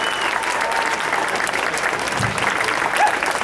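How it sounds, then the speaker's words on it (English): Crowd applause and cheering at an outdoor Stop Bill C-51 protest rally in Edmonton, a steady broad wash of clapping lasting throughout with a brief whistle near the end. "Let's hear a big round of applause for everyone who showed up."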